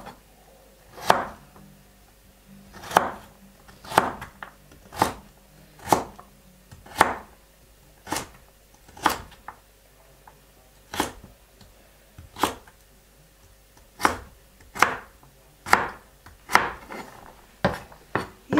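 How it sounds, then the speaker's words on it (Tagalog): Carrots chopped with a knife on a board for a bacon-wrapped pork tenderloin dish: about fifteen sharp, separate chops land at a slow, fairly even pace, close and clear, with no talking. "Ayan, hiwa tayo ng carrots."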